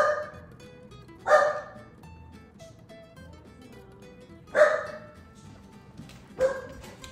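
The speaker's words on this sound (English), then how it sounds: "You're barking at your cat." Great Pyrenees dog barking at a cat outside, giving three separate loud barks spread across the stretch with quiet room sound between them.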